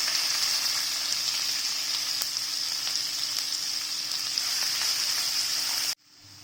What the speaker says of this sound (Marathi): आता त्याच्यामध्ये आपण हा कांदा टाकून घेऊया.